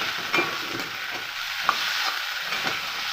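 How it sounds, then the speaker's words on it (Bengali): Chilli, turmeric and coriander powder being stirred in a pan: a steady broadband sizzle of frying with a few soft scrapes of the spoon against the metal, close and continuous, no voices. "লঙ্কার গুঁড়ো হলুদের গুঁড়ো আর ধনের গুঁড়ো দিয়ে আমি নাড়তে পারবো"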